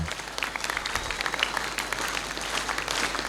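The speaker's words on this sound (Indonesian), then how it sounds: "Oke, tepuk tangan semuanya." A crowd of students at a school flag ceremony claps together in a steady, even burst of applause that runs the whole time at moderate volume.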